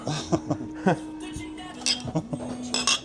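Glasses clink together during a beer toast, a series of sharp, bright clinks and light knocks scattered over a few seconds while people talk nearby.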